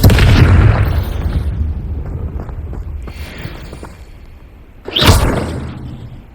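A Confringo spell explosion in the Hogwarts Legacy video game: a loud boom at the start decays over a few seconds, then a second sharp blast hits near the five-second mark, with no talking.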